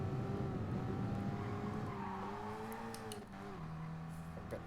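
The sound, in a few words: race car engine in Gran Turismo Sport video game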